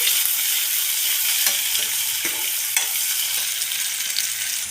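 Onions sizzling steadily in hot oil for a saag tempering with haliyo, a dense continuous crackle with a few soft stirring knocks and no voices.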